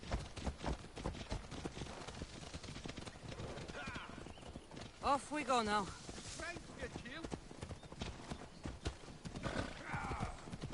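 Horse hooves clip-clop in the video game Assassin's Creed Odyssey, a steady trotting patter mixed with a horse's whinny, heard under ongoing talk and game sounds.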